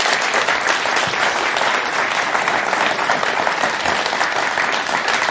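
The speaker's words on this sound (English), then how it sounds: "can I give a huge round of applause to those schools?" A symposium audience breaks into loud, sustained applause for the participating schools, dense clapping filling the room steadily from start to finish with no pause.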